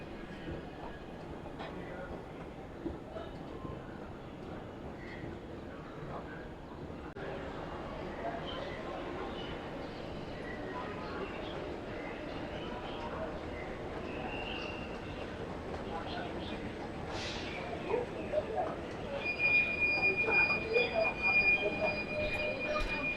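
Metro train at Gandhigram station in Gujarat, a short 7 or 8 coach set, rumbling steadily with a brief high wheel squeal partway through and a louder swell near the end, while people talk in the background.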